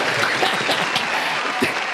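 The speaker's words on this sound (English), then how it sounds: "Let's have some applause." Steady crowd applause filling the whole stretch, dense clapping with a few scattered cheers, fairly close and loud.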